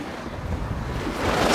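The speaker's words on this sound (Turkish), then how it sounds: "sanırım biraz rüzgarlı olduğu için" Gusty wind on a hillside villa terrace in Kuşadası, rushing across the microphone and building louder toward the end, with a broad roaring hiss like surf in the background.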